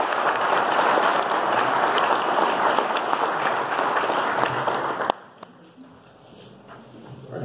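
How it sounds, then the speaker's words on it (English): Sustained audience applause at a college jazz concert fills the first five seconds, dense and fairly loud, then cuts off abruptly to a quiet room with faint shuffling and low murmurs. "would you please give him a round of applause?"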